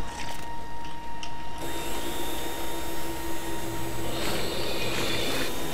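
Robin's vacuum cleaner in the Lego Batman video game runs as a steady mechanical whir with a constant tonal hum, swelling slightly partway through and staying continuous at moderate level.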